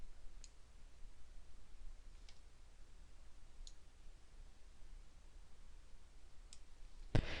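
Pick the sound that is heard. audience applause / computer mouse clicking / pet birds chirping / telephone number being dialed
computer mouse clicking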